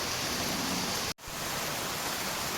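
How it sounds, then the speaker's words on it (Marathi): Steady rain falls over a village, a dense even hiss that stays loud and unbroken apart from one momentary dropout, with no voices. "बघा, पाऊस मस्त असं पडतोय बघा."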